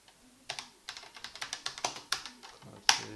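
Keys clack on a BBC Microcomputer keyboard, a close run of about a dozen crisp, evenly paced keystrokes with a sharper final press; no speech.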